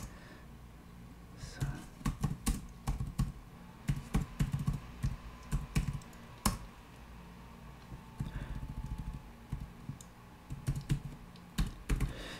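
Someone types on a computer keyboard while programming C++ on Linux, with close, crisp keystrokes in irregular bursts and short pauses between runs.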